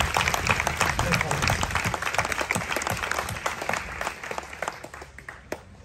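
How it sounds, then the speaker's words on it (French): A congregation applauds a diocesan synodal team at a church assembly in Myans, a steady burst of many hands clapping together that tapers off slightly toward the end, with no talk over it. "Vraiment, applaudissez-les"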